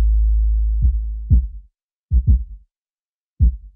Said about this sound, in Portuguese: Então eu tô tirando um pouco de sustain para deixar só esse ataque grave mesmo no bumbo